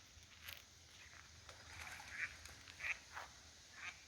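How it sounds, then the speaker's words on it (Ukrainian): Ducks sitting on the Desna river near Kyiv give a few faint, scattered quacks over quiet outdoor background, with short calls spaced irregularly through the clip. "а тут сидять такі здорові, жирні утки"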